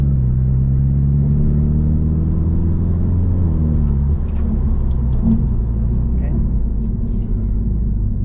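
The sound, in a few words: car exhaust heard from interior with windows down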